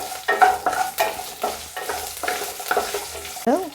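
Onions frying in oil for valarai keerai chutney are stirred briskly in a pan, with rhythmic scraping strokes roughly every half second over a light, continuous sizzle.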